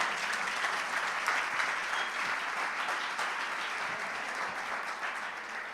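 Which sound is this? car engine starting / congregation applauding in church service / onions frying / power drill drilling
congregation applauding in church service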